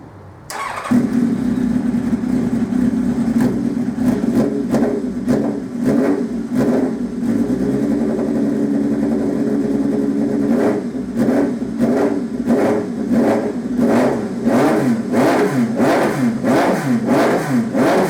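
A car fitted with a new TEC exhaust on a Micron downpipe cranks and fires, settles into a rough idle, then revs again and again in quick, loud blips near the exhaust, with no talking.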